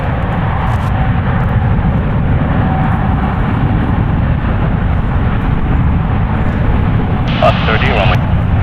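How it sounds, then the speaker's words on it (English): A seven-year-old United Airlines Boeing 787-9 Dreamliner departs San Francisco International, its engines giving a loud, continuous low roar that holds steady throughout, heard through a somewhat muffled, band-limited feed. "we have the Dreamliner departing. Hear it roaring in the background."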